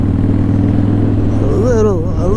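Harley CVO Pro Street Breakout with aftermarket exhaust, a loud, close, low rumble holding steady, then a short rise in pitch as the engine revs near the end, with someone talking over it.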